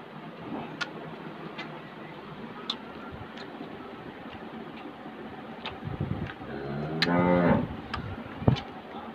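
A Friesian cross cow moos near the end, a low drawn-out call over steady outdoor background noise with faint ticking sounds.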